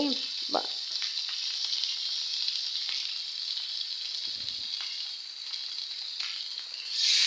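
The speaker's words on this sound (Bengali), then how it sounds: "মাছ ভাজতে দিলাম। আর এটা হলো জাটকা মাছ।" Jatka fish, juvenile hilsa, fry in oil in a pan, giving a steady close hiss and sizzle throughout, with a couple of soft utensil knocks and a louder crackling surge at the end.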